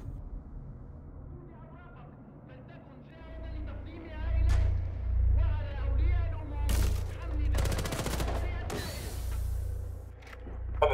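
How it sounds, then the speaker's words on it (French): Machine-gun fire in a video game comes in short, loud rapid bursts near the end over a low pulsing rumble, with a voice talking through much of it. "le pire c'est qu'il est en train de tirer 50 balles là"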